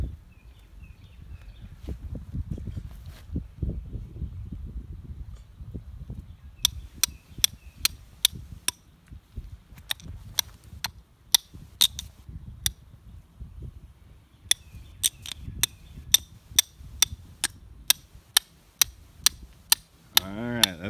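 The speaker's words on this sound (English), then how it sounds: "y'all hammer that stake in the ground" Sharp metallic hammer strikes ring out in irregular bursts as a stake is driven into the ground, some rapid runs of blows, outdoors over low rustling background noise.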